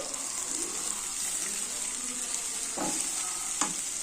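Pea chaat being stirred and mixed in a pan, a steady soft sizzle with a few scraping strokes of a spoon near the end, close and moderately loud.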